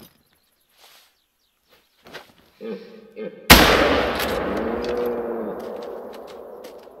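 Hunting rifle shot in The Hunter: Call of the Wild, one loud close crack that rolls out into a long echoing tail, after a few quiet footsteps and soft outdoor sounds.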